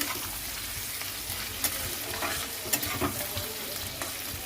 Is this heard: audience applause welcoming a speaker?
no